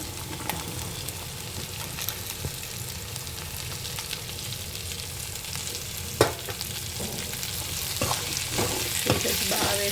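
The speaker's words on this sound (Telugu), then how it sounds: "కొద్దిసేపు నూనెలో కొంచెం ఫ్రై అయ్యాక మన బెండకాయ పీసెస్ అనేవి దాంట్లోకి వేసేసుకోవాలి" Okra pieces fry in hot oil with turmeric, giving a steady, dense sizzle throughout with occasional clicks and scrapes of stirring.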